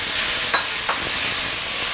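Chopped tomatoes hit hot oil with dried shallot and minced garlic in a wok, giving a steady bright sizzle broken by a couple of quick stirring scrapes.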